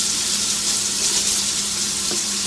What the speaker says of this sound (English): So we're just going to give that a little bit of wash.